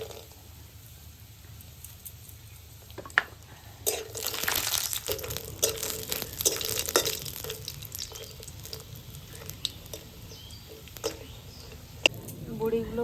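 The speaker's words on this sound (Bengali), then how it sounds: "এখন বড়িগুলো তেলে ভেজে নেওয়া হবে" Lentil dumplings (bori) are dropped into hot oil and fry with a crackling sizzle that flares after a few seconds, then settles into intermittent spitting pops while a person talks over it.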